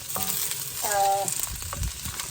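Onions frying in a pan for curry, a continuous close sizzle with a few brief tonal squeaks and low clunks of the pan underneath, no one speaking.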